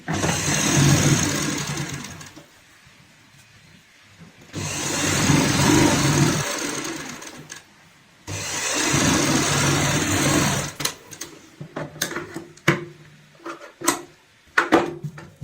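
A sewing machine stitches a homemade doormat in three sustained runs separated by quiet pauses, followed by a series of short sharp clicks and bursts as the fabric is adjusted; close and loud.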